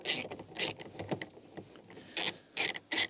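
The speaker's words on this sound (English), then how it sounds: "We'll use the ratchet today because it's easiest." A ratchet clicks in short bursts while loosening a tight top bolt on a Nissan Micra K11 door mirror, several brief close metallic ratcheting runs separated by quieter mechanical handling.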